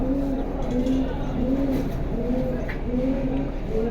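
Pigeons cooing at a pigeon sale, repeated low rolling coos in a regular rhythm, close and clear against a murmur of background noise.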